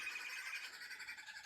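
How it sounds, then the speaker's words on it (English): A chorus of harsh, cackling wood hoopoe calls, faint and distant, continuing without pause. "birds disturbing us over here,"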